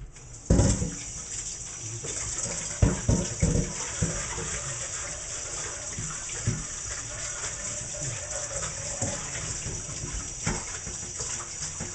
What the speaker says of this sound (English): I'm going to take my bowl and I'm going to wash it real quick.